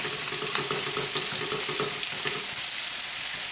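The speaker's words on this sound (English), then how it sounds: "And then give that a mix." Chorizo and new potatoes stirred in a simmering tomato sauce, a continuous wet bubbling sizzle with soft scraping throughout.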